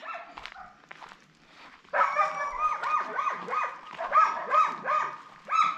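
Several dogs bark, yip and howl in an excited, overlapping chorus nearby in a Turkish village, starting after a quieter opening.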